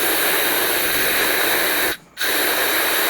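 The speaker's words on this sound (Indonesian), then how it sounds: "Dan kita semprot seperti ini, nanti akan kelihatan ya kalau ada yang bocor." Gasoline sprays in steady hissing bursts onto a Honda Vario scooter engine during a valve leak test, loud and close, with one brief pause near the end.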